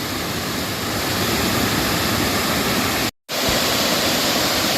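Loud, close roar of rushing water at the top of a waterfall in Ricketts Glen State Park, a continuous broadband wash broken only by one abrupt momentary dropout before resuming.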